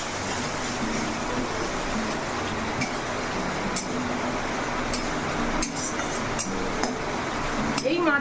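A spatula sautés spices in a pan for a fish curry, with repeated metallic clinks and scrapes over a constant sizzle while someone talks.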